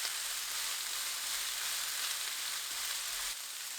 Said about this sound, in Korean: 쪽파 넣고 20초 볶습니다